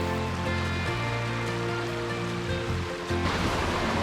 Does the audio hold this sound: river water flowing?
yes